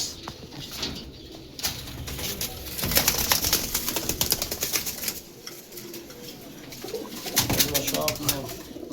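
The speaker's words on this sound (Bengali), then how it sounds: "সিলভার কবুতর, এই যে" Silver pigeons coo and rustle close by, with dense clicking scratches and bursts of wing flapping over a continuous low murmur.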